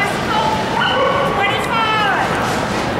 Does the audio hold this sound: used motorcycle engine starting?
no